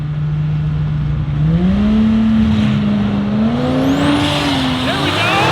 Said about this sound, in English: let me see some RPM this time, Kelly.